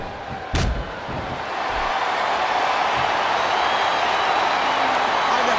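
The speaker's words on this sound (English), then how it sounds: "It sounds like this capacity crowd has something on their minds, Taz." Arena crowd in the WWE SmackDown video game, a loud continuous roar of a capacity audience that swells and holds after a sharp slam-like thud near the start.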